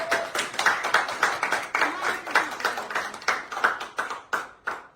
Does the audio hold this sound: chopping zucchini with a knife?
no